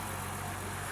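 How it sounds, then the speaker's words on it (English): A car engine runs during a MAP/MAF sensor check. It holds a steady, close, low mechanical hum for under a second, with no clear rise in pitch and no talking. "Give it revs."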